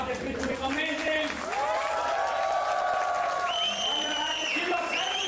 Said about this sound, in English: Give me a huge round of applause for the boys so far.